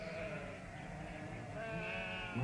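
Sheep bleat in a fairly close, wavering series of calls, one voice overlapping another, with no talking over them.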